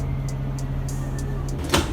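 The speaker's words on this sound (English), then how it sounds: "Doors open." Train doors on a high-speed rail line sliding open, a short mechanical clunk and rush near the end over a steady low hum, preceded by faint repeated high chimes.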